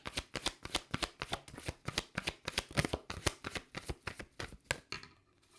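Tarot cards riffle and slap together in a fast, steady shuffle, close and crisp, with a brief pause near the end.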